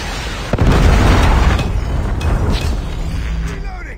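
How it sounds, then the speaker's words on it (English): A Predator missile strike in Call of Duty lands with a sudden loud boom, its rumbling blast and debris decaying over several seconds amid game noise. "Predator missile inbound."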